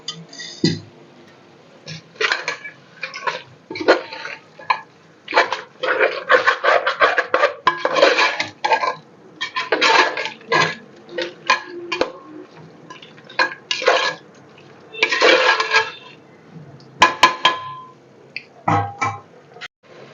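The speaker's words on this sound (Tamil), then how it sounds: "ஒரு 3 ஸ்பூன் தயிர் போட்டுக்கலாம்." Yogurt being spooned into a biryani pot, with a steady run of clinking, scraping metal spoon and pot sounds, close and fairly busy, no talk.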